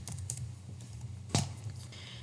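Keys on a computer keyboard typed while entering a database query, heard as a few soft, close clicks with one sharper tap midway, all fairly quiet.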